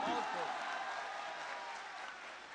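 Audience applause at an Independence Day mushaira poetry recital in Kolkata, a dense, steady clapping from a large crowd that fades slightly, with a voice briefly heard at the start.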